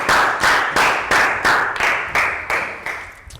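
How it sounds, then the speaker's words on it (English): Pupils in a classroom clap together, a brisk run of rhythmic applause in regular surges that gradually thins and fades toward the end, close by and fairly loud. "A round of applause for everyone for remembering"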